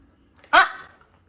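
A dog gives one loud, aggressive bark close by, a sharp burst that trails off quickly into quiet, with no other sounds around it.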